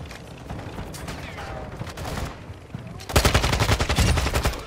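Rapid automatic gunfire in the Call of Duty DMZ game, a dense rattling burst that grows louder and closer in the final seconds after quieter, scattered shots earlier, with no speech over it.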